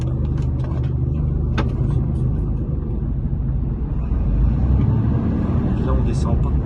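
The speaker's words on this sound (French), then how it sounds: "il y a des camions qui arrivent" Heavy trucks rumble steadily as they arrive at a ferry crossing between Greece and Turkey, a continuous close engine drone with people talking over it.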